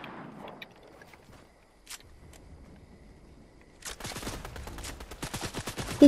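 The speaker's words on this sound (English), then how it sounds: "He's trying to shoot me." Video game gunfire: a mostly quiet stretch with a few isolated clicks gives way to a rapid, dense volley of shots over the final two seconds.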